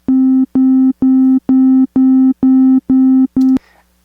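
A software plug-in synthesizer plays eight short, evenly spaced sine-wave notes of the same pitch with randomized velocity, each a loud buzzy tone switching cleanly on and off, with no voices.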